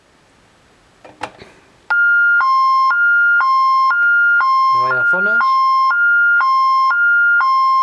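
A Honeywell burglar alarm panel emits a repeating two-tone beep pattern, loud and steady, with a few clicks before and a brief spoken phrase partway through.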